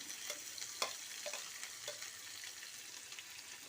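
Dried red chillies, finely chopped ginger, green chillies, coriander and curry leaves fry in a pan after lentils, giving a faint, steady sizzle with a few soft stirring clinks.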